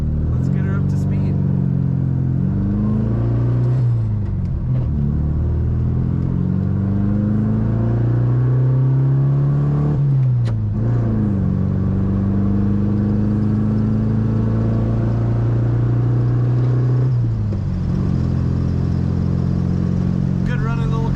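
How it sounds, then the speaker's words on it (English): A 1972 Volkswagen Beetle with a four-speed floor shift accelerating along a road, its engine note rising and dropping through gear changes, loud and steady inside the cabin throughout. "Let's get her up to speed."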